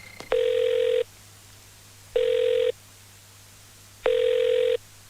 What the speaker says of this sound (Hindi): फोन नहीं उठा रहे। दोबारा लगाओ, उठाएगा।